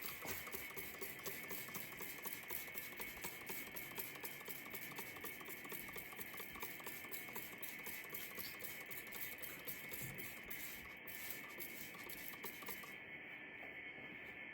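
A 1970 Plymouth Duster engine is turned over by hand at the flywheel, giving a faint, steady mechanical ticking and whirring that runs evenly throughout with no voices.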